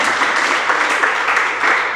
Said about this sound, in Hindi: ताली बजाओ ना, समझ में आ जाए।